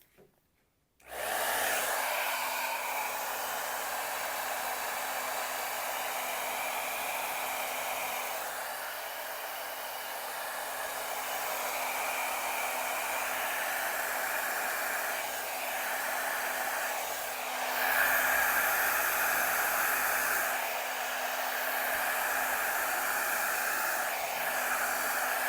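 A hair dryer blows steadily on wet paint on a small canvas, a continuous airy whoosh with faint shifts as the airflow moves, starting abruptly after a brief quiet moment.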